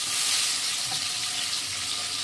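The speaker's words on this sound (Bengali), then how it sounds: "মাছটা দিয়ে দেবো কড়াইতে" Fish fried in hot oil in a large wok gives a steady, dense sizzle with a bright hiss, close and even throughout, with no voices.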